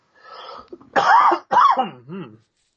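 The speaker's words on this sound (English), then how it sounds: "Can't get rid of this freaking cough." A person coughs and clears their throat in a few rough, hacking bursts, close to the microphone, with no speech.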